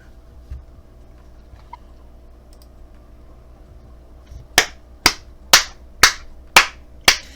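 Six sharp, evenly spaced claps ring out in a steady rhythm at a table after a tense dice roll in a tabletop role-playing game, loud and close against a quiet room.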